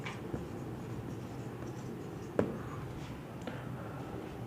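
A pen writing words by hand on paper, producing a soft, steady scratching with faint taps and one sharper tick midway, close and quiet, with no talk.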